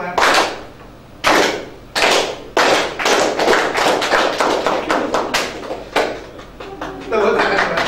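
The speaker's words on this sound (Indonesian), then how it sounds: "Tepuk tangan." A classroom of students claps in loud group bursts, some sharp single claps with short pauses between them and some longer stretches of overlapping clapping, close and dense, with a teacher's voice heard at times.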